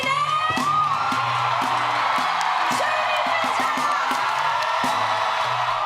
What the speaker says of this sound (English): When the surprise guest walked gingerly onto the stage at the Newport Folk Festival, the crowd erupted